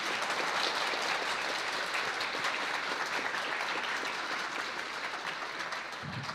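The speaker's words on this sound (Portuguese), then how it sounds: "Uma salva de palmas para Marília." Steady, dense applause from an audience at a piano recital fills the room and stays even throughout before fading slightly at the end.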